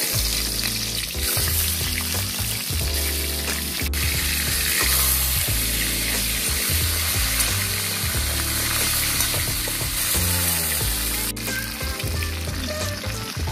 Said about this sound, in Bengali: তেতে গেছে সর্ষের তেলটা দিয়ে দেবো কাতল মাছের মাথাটাকে